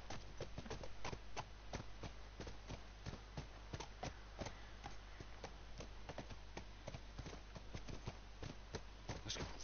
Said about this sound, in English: I have a feeling I might have to go on to the horse for this bit.